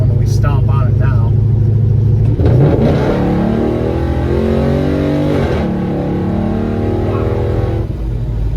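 A 1966 Chevelle with an LS engine conversion accelerates hard from about 60 mph, its engine note swelling into a loud, rising roar that climbs steadily through the gears and stays close and dominant throughout.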